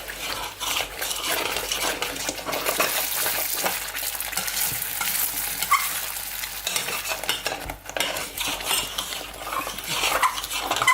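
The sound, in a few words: stirring melting cheese sauce in a pot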